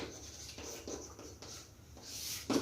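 A pen or chalk writes out a maths solution on a board or page in short, scratchy strokes, close and quiet, with brief pauses between marks and a louder scrape at the end.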